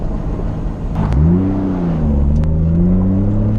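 A single-turbo 550 hp Toyota Supra accelerates hard in third gear and loses traction, its loud close engine note sweeping upward in a sustained pull after a brief surge.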